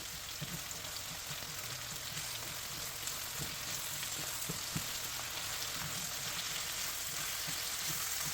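Pork loin with caramelized onions sizzles steadily in a frying pan, a soft, even hiss with occasional small pops and stirring scrapes, quiet and close, with no talking.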